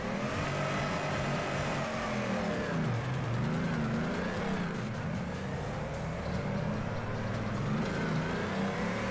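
A drift car's engine revving in the video game Torque Drift, loud and continuous with rising and falling pitch as the throttle swings through sustained revs.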